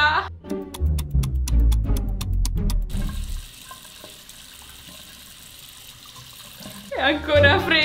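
Cold water pouring from a hotel sink tap while someone washes their face, loud splashing at first, then a steady running stream, with more splashing near the end and voices talking over it.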